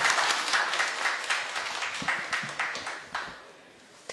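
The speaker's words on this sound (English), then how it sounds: "Let's all give them a big round of applause." Audience members at a cultural heritage workshop give a warm round of applause, dense clapping that gradually thins out and fades, with a few voices murmuring underneath.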